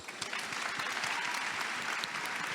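Audience clapping at a book fair panel, a steady patter of many hands applauding together, moderately distant and fairly soft, with no talking over it.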